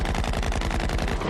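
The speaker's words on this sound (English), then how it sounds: "They're shooting at us." Rapid automatic gunfire aimed at a helicopter in a 1994 sci-fi pilot episode, a dense, continuous burst of evenly spaced shots, loud and close, with no talk over it.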